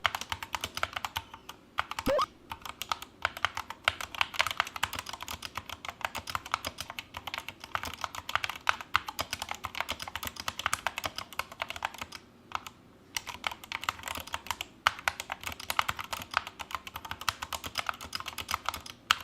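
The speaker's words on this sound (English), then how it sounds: "they're Gatoron Brown optical switches. So we'll pause here and you can listen to what those sound like." Gateron Brown optical switches typed on an SK61 60% keyboard, a continuous close stream of soft, thumpy keystrokes in an irregular rhythm, alone with no talk.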